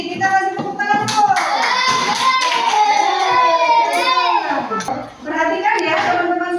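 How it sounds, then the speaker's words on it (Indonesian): Classroom audience of children clapping for a presenting group during a teaching session, steady applause lasting several seconds with lively young voices calling out over it and a brief dip near the end. "Kita kasih tepuk tangan dulu."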